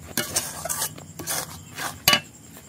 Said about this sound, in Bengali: এইভাবে অল্প অল্প করে আমি সুজিটা দেবো আর নেড়ে নেব